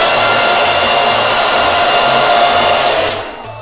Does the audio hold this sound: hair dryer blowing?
yes